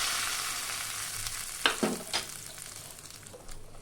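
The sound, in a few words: hot mustard oil tempering with black mustard, dried chili, bay leaf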